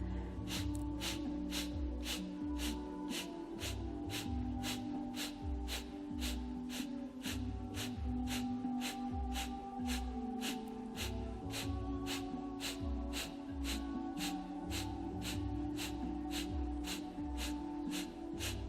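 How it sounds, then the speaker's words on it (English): Rapid, rhythmic breath-of-fire yoga breathing, sharp nasal exhales pulsing steadily about twice a second for the whole stretch, close and fairly loud over a soft sustained musical backing. "add breath of fire here if you can"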